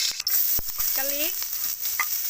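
Garlic frying in oil in a pan gives a steady, close sizzle with a few stirring clatters and a brief squeaky scrape, as it cooks for fried chicken legs.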